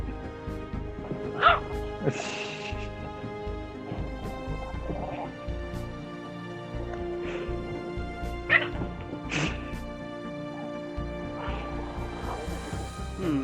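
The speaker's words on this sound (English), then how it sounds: "Judging by that sound, I'm guessing Chihuahua. No, Yorkie." A small dog gives repeated high-pitched yips, barks and whimpers, spaced out over several seconds at close range.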